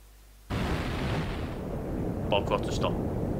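Explosion in the video game Final Fantasy IV Pixel Remaster, a sudden loud blast followed by a sustained rumbling roar with a few crackling bursts near the end.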